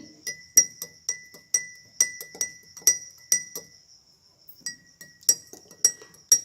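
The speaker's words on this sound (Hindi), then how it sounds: "ग्लास में दूध डालने के बाद इसमें और 1 चम्मच हम ठंडाई डालेंगे और इसे अच्छे से मिक्स कर लेंगे।" A metal spoon stirs thandai and milk in a glass, making a quick series of bright clinks against the glass. There is a short pause partway through before the clinking resumes, with no talk.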